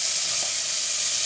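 Hot oil sizzles in a pan while chili con carne is cooked, producing a steady, close, bright hiss throughout the short moment with no talking.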